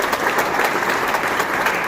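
A large audience applauds steadily at a Kosovo Independence Day celebration in New York City, a dense, continuous wash of clapping that holds at an even, fairly loud level throughout.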